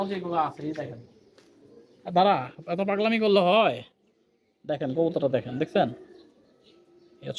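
Pigeons coo in low, repeated bursts close by, mixed in with a person talking.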